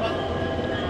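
A WAP-7 electric locomotive at Howrah station gives a steady, close, broadband rumble with a faint electrical hum for about a second.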